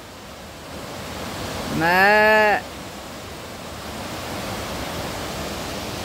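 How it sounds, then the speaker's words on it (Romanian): Steady rushing water noise from the Cascada 7 Izvoare waterfall runs through the whole stretch, with a brief voiced call rising over it midway. "Cascada 7 izvoare."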